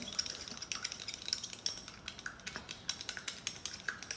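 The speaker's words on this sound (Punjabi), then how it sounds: "ਇਹਦੀ ਪਿਛਲੀ ਡੰਡੀ ਦੇ ਨਾਲ ਆਪਾਂ ਇਹਨੂੰ ਚੰਗੀ ਤਰ੍ਹਾਂ ਮਿਕਸ ਕਰ ਲੈਣਾ" Spoon scraping and tapping against a small bowl while a licorice-powder face pack is stirred, a run of close, light, rhythmic clinks and scrapes with no voices.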